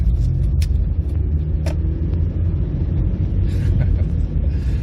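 A 1989 Nissan Sunny B12 Estate with a 1.6 engine and no power steering is on the move, giving a steady low engine and road rumble that runs the whole time, with no talk over it.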